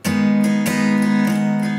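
Guitar strumming with a slightly harder downstroke on each beat, accented strokes recurring roughly every 0.6 seconds over a continuous ringing chord, close and alone.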